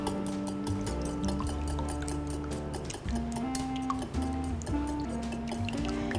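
Egg being whisked with salt, sugar and cheongju rice wine in a bowl, steady wet clinking and sloshing strokes repeating close by, alone without talk.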